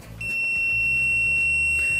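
A multimeter set to semiconductor mode, probes on a shorted MOSFET on a circuit board, gives one steady high beep that starts after a brief moment and holds unbroken to the end, over a low background hum.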